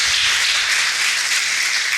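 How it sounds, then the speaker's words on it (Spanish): A church congregation keeps up sustained applause during an Easter Sunday service, a thick, even clatter of many hands with no voices on top. "Un aplauso."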